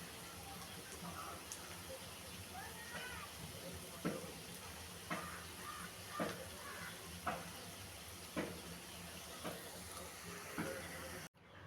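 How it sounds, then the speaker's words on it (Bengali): Cabbage pakoras deep-fry in oil until reddish, a continuous soft sizzle and bubble broken by periodic clinks and scrapes of stirring, fairly quiet and close, with no talking. "এভাবে সব পাকোড়া লাল লাল করে ভেজে নিব।"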